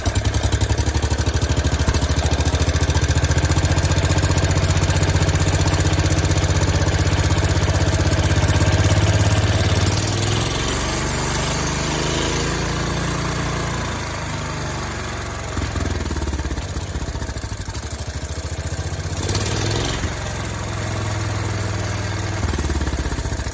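The rebuilt engine of a 1971 John Deere 140 H1 garden tractor runs loud and close, a steady throbbing idle that drops in pitch and settles partway through.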